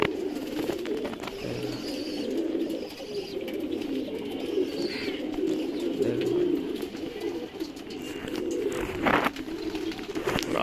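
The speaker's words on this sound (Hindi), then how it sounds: "देखो कबूतर चुग रहे हैं।" Pigeons feed at a net outdoors, soft repeated cooing calls scattered over steady low background noise, with a voice faint beneath.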